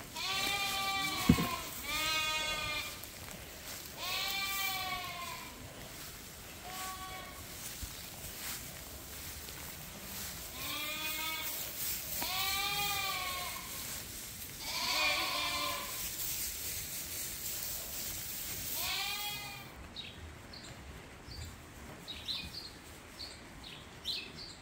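Sheep and lambs in a clean pen bleat repeatedly, several loud wavering calls spaced a few seconds apart over a steady background hiss, with faint bird chirps and no speech.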